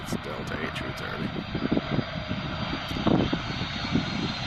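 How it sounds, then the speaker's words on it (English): A Delta Airbus A330 jet landing near Amsterdam, heard as a steady, loud engine roar with a continuous rumble while a voice talks over it. "Yes, it's Delta A330."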